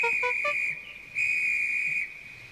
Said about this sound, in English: The guard blew his whistle till he had no more breath